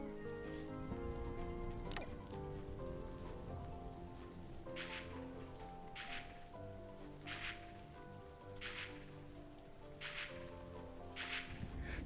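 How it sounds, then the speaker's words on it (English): Rain in the cozy solarpunk farming game Loftia falls steadily and patters on surfaces, a constant soft hiss under a gentle musical backdrop, with regular brighter splash-like accents recurring throughout and no talking. "the reason I'm not having to water my plants is because it's raining, so they're already watered"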